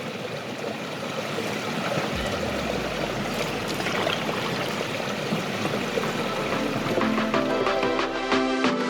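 Gold prospecting gear is rinsed in a stream, giving a steady rush of flowing, splashing water up close, with a clatter of gear and a few metallic chimes near the end.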